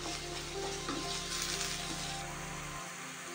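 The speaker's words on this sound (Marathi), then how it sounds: "आलं लसूण पेस्ट, कांदा, कोथिंबीर व्यवस्थित असं 2 मिनिटभर परतून घेऊ" Ginger-garlic paste and onion sauté in a pan while a rajma rice dish is being cooked. A dense, loud, continuous sizzle with stirring runs until it cuts off abruptly near the end, with no voices.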